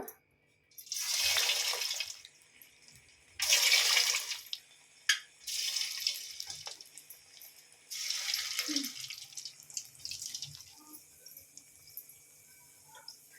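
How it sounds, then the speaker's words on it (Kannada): Bread bonda balls dropped one at a time into hot oil on a low gas flame, each bringing a loud bubbling hiss that rises and fades in separate bursts, with quieter gaps between. "ಈಗ ಇದನ್ನು ಎಣ್ಣೆಯಲ್ಲಿ ಫ್ರೈ ಮಾಡ್ಕೊಳ್ಳೋಣ."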